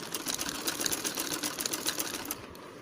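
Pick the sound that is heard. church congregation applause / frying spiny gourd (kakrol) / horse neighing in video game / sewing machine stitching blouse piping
sewing machine stitching blouse piping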